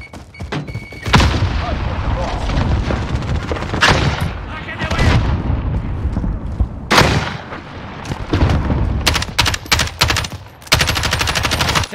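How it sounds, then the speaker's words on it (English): Heavy, close automatic gunfire with booming blasts, including a grenade explosion, in Call of Duty Modern Warfare multiplayer, the bursts rolling almost without pause over twelve seconds and ending in a rapid volley, radio-style voices briefly heard. "Grenade out!"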